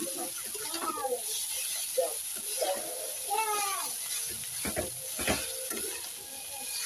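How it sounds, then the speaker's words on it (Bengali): Boiled chow mein and vegetables are tossed and stirred in a frying pan, with a loud continuous sizzle under repeated spatula scrapes and clanks, and someone speaking intermittently over the cooking. "তারপরে চাউমিনটা সবজির সাথে মিশাইয়া নিব।"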